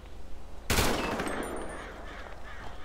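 A single sharp, loud gunshot blast in GTA 5 Remastered cracks over a low steady hum, then trails off in a long ringing decay.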